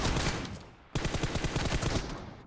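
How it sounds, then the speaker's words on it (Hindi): Rapid bursts of gunfire in the video game PUBG, played on an emulator, crackle in quick repeated volleys, briefly tapering off before a sharp new burst resumes and continues densely to the end. "यार कितनी गोलियां मारूं मैं"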